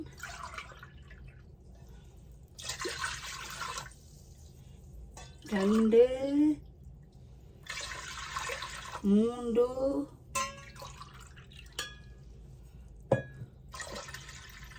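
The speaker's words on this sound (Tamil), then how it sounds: "மூன்றே முக்கால் கப் தண்ணி விட்டு கொள்கிறேன்" Water is poured into a cup while black kavuni rice porridge is being cooked, giving several short splashing pours separated by quiet gaps, with a person speaking between them.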